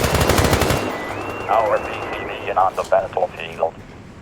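Rapid automatic gunfire from the video game World War 3 rattles loudly in a fast, continuous burst, then cuts off, leaving a low game rumble under which someone talks.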